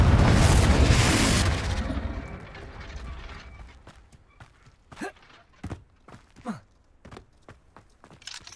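A Confringo blasting spell detonates in the Hogwarts Legacy video game, a loud broad boom that rumbles and decays over about three seconds, followed by a string of sharp, quieter footstep-like thuds and clicks.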